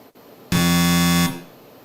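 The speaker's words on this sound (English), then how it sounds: "all the buzzers are working" One sharp game-show buzzer blast, loud and even for about three-quarters of a second, surrounded by near silence.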